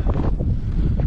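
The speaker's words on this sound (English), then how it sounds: "that wind is wicked" Strong wind gusts buffet the microphone outdoors in below-zero freezing weather around 30 mph, a loud continuous roar with surging rumbles for about a second.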